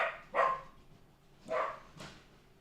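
Max the dog gives a few sharp barks with pauses between them, heard at moderate distance in an indoor room with no talking.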